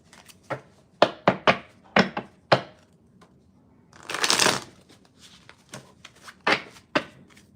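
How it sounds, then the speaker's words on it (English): Tarot cards being shuffled in short, crisp bursts of flicking and tapping, with a longer riffling rush in the middle, close up and with no talking. "Let's do one more shuffle."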